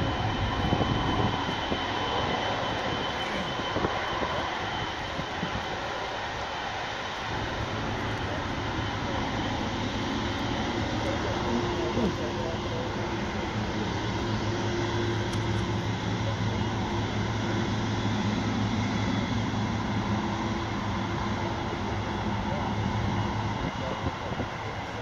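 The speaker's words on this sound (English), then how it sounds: "777s are allowed to land at any time of the day in Schiphol." A Boeing 777 with Rolls-Royce Trent 800 engines landing at Schiphol airport, a steady broad jet roar that holds loud and close throughout, with a low rumble rising under it partway through and faint voices in the background.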